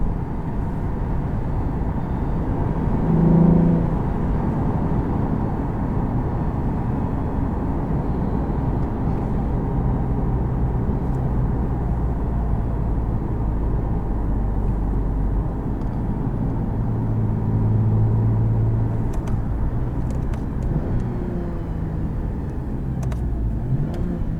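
A 2015 Lexus IS350 F Sport V6 with an aftermarket intake and exhaust, a steady engine drone heard from inside the cabin while driving, with brief rises in pitch and no talk.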